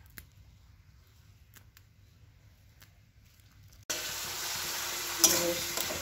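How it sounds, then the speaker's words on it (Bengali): A spice paste of ginger and tomato fries in a pan, heard as near-silence with faint ticks for four seconds before a sudden, steady loud sizzle takes over with a brief clatter near the end. "এখানে আমি মশলাটা কষে নিচ্ছি।"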